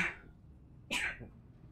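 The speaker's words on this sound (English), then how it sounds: "I had to sneeze." A single short sneeze bursts out close to the microphone during a quiet moment of PC gameplay, preceded by a faint breathy intake and followed by soft room noise.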